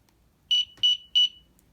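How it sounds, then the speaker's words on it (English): Three short, shrill electronic beeps from a mini door alarm sensor, evenly spaced and loud at close range, with a faint click between the first two and quiet before and after. "alarm that sounds when it opens and then closes"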